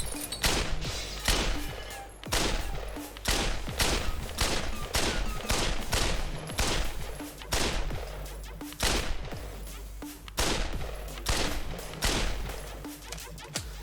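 Rapid, loud gunshots from the Pavlov VR shooter game crack out one after another in a steady barrage that runs the whole stretch with only short pauses, and nobody speaks.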